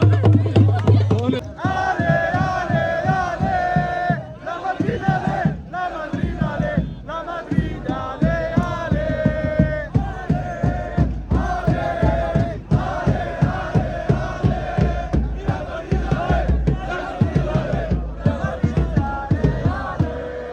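Arabic-speaking football fans chant in rhythmic unison at a Real Madrid Champions League match against Leipzig, a loud, dense crowd with pulsing syllables repeating steadily throughout.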